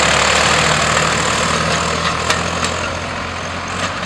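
Government-supplied farm tractor engine idling for cotton farmers' field ploughing in Simiyu, a steady loud low rumble with a few faint clicks, cutting off abruptly at the end.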